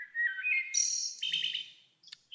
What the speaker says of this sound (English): Just picking off two bird calls.